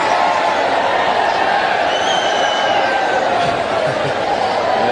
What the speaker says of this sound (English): the crowd is starting to warm up with the wave